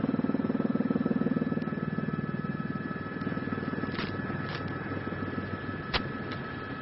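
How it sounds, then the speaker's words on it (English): A police helicopter drones steadily overhead during a police chase in California, its rotor thrum pulsing evenly, with a few sharp clicks and crackles over the continuous engine noise. "this is a police helicopter."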